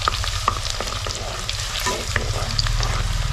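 Close, busy sizzling of crushed garlic frying in hot oil in a pot, with scattered sharper pops and stirring scrapes over a steady low hum, no talking.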